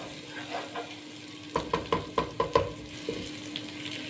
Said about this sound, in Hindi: कड़ी पत्ते डाल के मैं इसको अच्छी तरीके से फ्राई करूंगी।